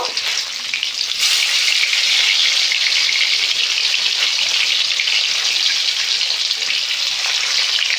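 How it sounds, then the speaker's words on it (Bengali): Katla fish pieces, flipped over, fry in hot oil in a kadai with a loud, dense, unbroken sizzle, slightly softer in the first second and then steady throughout. "বন্ধুরা এক পিঠ ভাজা হয়ে গেছে মাছ,"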